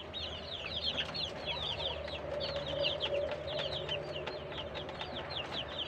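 Layer hens on a small provincial farm cluck and chatter continuously, several birds close by with overlapping short calls over a low steady background hum, no one talking.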